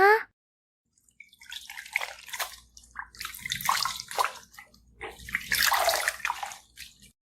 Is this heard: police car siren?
no